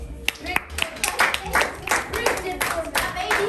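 Scattered, uneven hand claps from a small audience at a class quiz session, with distinct individual slaps rising and falling in bursts rather than a full ovation.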